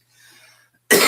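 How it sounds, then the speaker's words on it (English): A single sharp, loud cough bursts out after a moment of near silence. "You start coughing."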